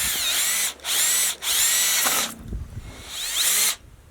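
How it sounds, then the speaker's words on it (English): A power drill with a small bit whines at high speed in three short bursts, then a longer run as it bores a hole into the side of a frozen well pipe, close and loud. "I'm going to take a small drill bit and drill 1 hole in the side of our pipe"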